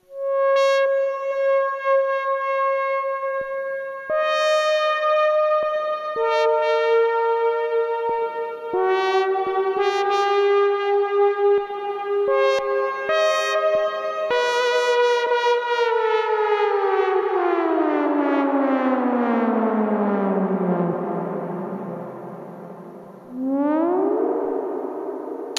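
Gakken SX-150 analog synthesizer with its filter opening and sweeping, producing rich buzzy tones that step and glide, then dive steeply downward in pitch like a siren, loud and continuous throughout.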